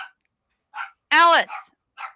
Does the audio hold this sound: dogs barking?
yes